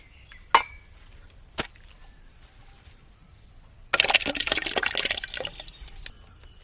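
Liquid poured into a pan for stick ice cream, a steady splashing pour that starts suddenly partway through after a couple of sharp knocks and runs for about two seconds before tapering off.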